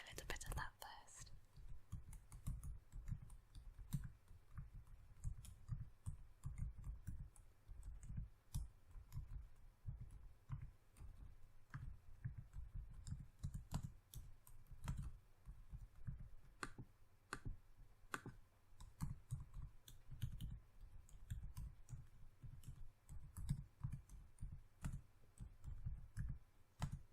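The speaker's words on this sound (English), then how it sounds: "I always like typing sounds, so I'm going to do a little bit of that first." Light, quiet tapping on a computer keyboard in a close ASMR setting, with irregular soft clicks running throughout alongside faint whispered speech.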